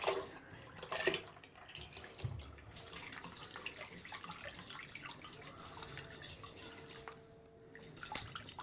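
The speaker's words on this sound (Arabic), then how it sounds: "هنضيف لها اللبن" Milk is poured into blended sweet potato in a home kitchen, a splashing liquid pour with clinks of pots and utensils running steadily throughout.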